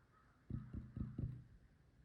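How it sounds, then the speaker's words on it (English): Crows cawing outdoors, four short harsh calls in quick succession, moderately loud over a quiet background. "The crows."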